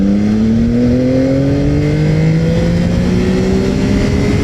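A Yamaha motorcycle with the Y-AMT automated gearbox accelerates hard in first gear, its engine note climbing steadily in pitch, loud and continuous under rushing wind.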